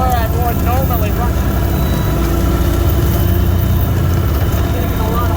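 A lawn mower engine runs steadily while mowing through snow, a loud, continuous close-up drone with a rough low rumble that holds throughout without pause.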